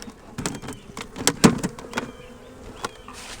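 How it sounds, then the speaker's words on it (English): Honey bees buzz around the front of an opened three-deep hive during a fall combine, the droning rising and fading as individual bees pass close, broken by sharp clicks and knocks of hive equipment. "Got a few bees out here on the front."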